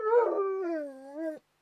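Timmy the dog gives one drawn-out, rising and falling howling bark, close and clear, lasting just over a second and ending abruptly, with no other sound around it.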